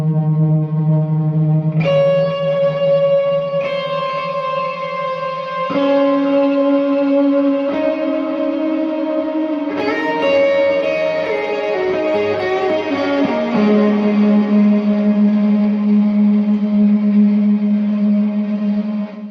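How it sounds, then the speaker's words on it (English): Electric guitar played through a Pladask Fabrikat granular delay pedal on a home pedalboard, sustained chords smeared into shimmering, echoing textures that shift pitch and layer continuously, loud and steady without talk. "So it's like a granular delay."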